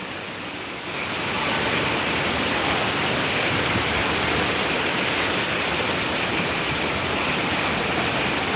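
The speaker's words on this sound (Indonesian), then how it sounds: "kita masih menunggu hujan reda baru bisa pulang" Heavy rain falls at an airport in Papua, Sorong, a loud, unbroken roaring hiss that swells just after the start and holds steady with no voices.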